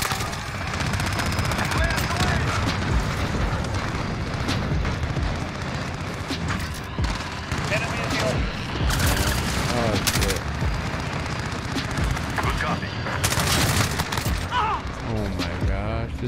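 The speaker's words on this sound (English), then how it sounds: "Allied cruise missile launch." Heavy gunfire and booming impacts from a cruise missile strike in Call of Duty Modern Warfare, with sustained loud automatic bursts and rumbling blasts, while game voices and chatter run underneath.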